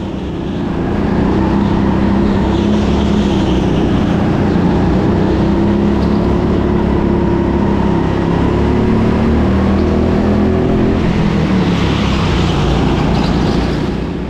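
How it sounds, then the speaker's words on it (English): Small go-kart engines racing at TeamSport Sheffield during an elite members race, a steady loud droning buzz that holds throughout with slight rises and falls in pitch, no voices over it. "The kart ahead is slower out of the hairpin, but I've got to put myself onto the outside."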